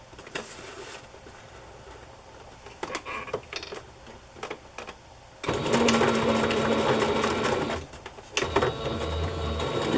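A sewing machine stitches cream or white thread through paper ephemera. A quieter stretch of faint handling and clicks gives way to a loud, steady, close mechanical whir that runs to the end with a short break.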